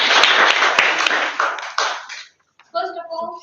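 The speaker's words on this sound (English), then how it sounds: "can we have a loud applause to all the three speakers who bravely come up?" An audience applauds three speakers at a club meeting, a dense burst of clapping that thins out and stops after about two seconds, followed by a brief silence before a voice begins talking.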